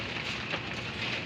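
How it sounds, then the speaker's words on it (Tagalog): Heavy rain pours down during a storm, a steady, moderately quiet broadband hiss without pauses or distinct drops. "Lakas ng ulan, bagyo."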